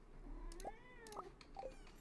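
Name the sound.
cat meowing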